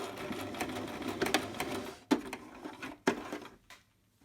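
A domestic sewing machine backstitching through fabric while sewing a cloth storage basket, running in quick mechanical bursts with clear stops and restarts, close and fairly loud.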